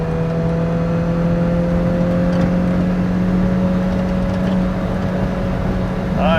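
Lotus Elise sports car cruising on a back road, a loud steady engine drone with constant road and wind noise heard from inside the cabin, holding even throughout.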